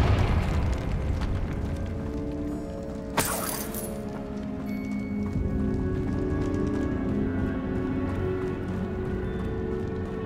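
A Confringo fire spell explosion in Hogwarts Legacy, a sharp burst about a third of the way in that rumbles and fades over a busy background of game combat noise and music.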